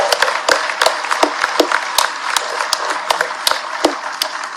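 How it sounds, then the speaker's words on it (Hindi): Scattered claps from an audience at a Madhya Pradesh government event, sharp individual hand claps in an irregular, fairly close rhythm that never builds into full applause. "एक बार ताली बजे तो ऐसी बनना चाहिए।"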